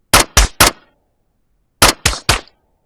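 Two quick volleys of three sharp rifle shots each, close and loud with short decays and silence between, from a VR horror game built in Unreal Engine 5.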